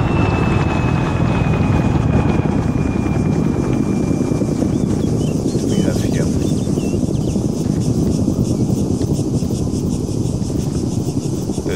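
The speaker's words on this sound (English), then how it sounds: "A big transport helicopter, Chinook basically." A Chinook transport helicopter in the video game Arma 3 produces a dense, loud, continuous rotor and engine drone, with insect-like chirping layered over the steady noise.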